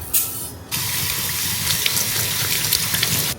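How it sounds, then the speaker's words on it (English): Tap water runs steadily into a container of rice being rinsed in a home kitchen, a near, continuous splashing stream after a brief start, with no talking. "So first let me wash the rice"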